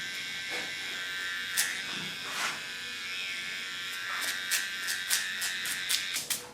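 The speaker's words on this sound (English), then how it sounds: "Clean the contour with a small clipper." A small electric hair clipper buzzes close by while trimming a hairline contour, its steady whine broken by short bursts as the blade moves in repeated strokes.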